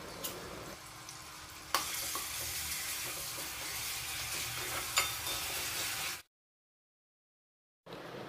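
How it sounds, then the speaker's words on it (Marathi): Ground ginger, garlic, green chilli and coriander paste sautéing in hot oil, a loud continuous sizzle with a couple of sharp spatula clinks, cutting to silence for over a second before the sizzle returns. "तेल गरम झालं की यामध्ये आपण वाटलेलं आलं, लसूण, हिरवी मिरची आणि कोथिंबीर 1 चमचा घालूया आणि चांगलं परतून घेऊया"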